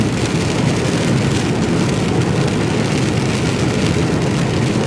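Steady, dense rain hisses loudly and evenly throughout, heard from inside a Mercedes Actros truck cab, a continuous wash of patter with no break or voices.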